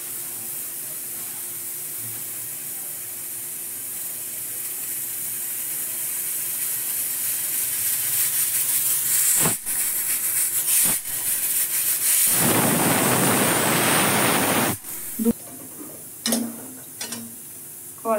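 A pressure cooker holding vegetarian dal with tender coconut flesh builds a steady hiss, then bursts into a loud, close whistle and rush of steam lasting a couple of seconds before cutting off to quieter kitchen background.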